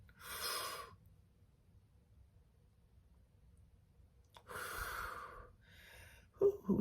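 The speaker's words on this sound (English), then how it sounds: "let's breathe in and breathe out" Two long, deep breaths of air drawn in and pushed out, separated by a quiet pause, close and fairly soft, with no talking during them.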